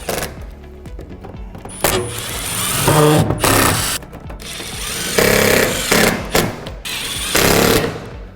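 Power driver running fasteners into corrugated roof flashing on a corrugated roof, several loud buzzing bursts of a few seconds each with short gaps between, close and alone.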